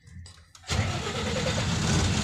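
A truck engine parked for two days near a cement plant cranks briefly with the starter, then catches and settles into a loud, steady diesel idle.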